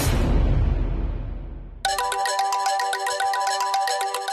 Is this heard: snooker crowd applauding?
no